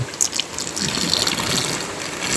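Water draining from a fish tank, continuous gushing and splashing, pouring steadily with a bright hissing wash and no pauses, close by.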